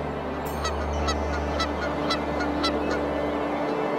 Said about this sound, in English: The lull of the night is quickly shattered by the symphony of birds and crowing roosters.